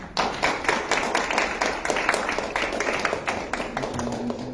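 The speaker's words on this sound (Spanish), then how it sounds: "Aplausos para Martín" A small audience claps for a presenter at the official launch of a Peruvian electoral dictionary in plain language, a steady patter of hand claps lasting several seconds at moderate volume with no talking over it.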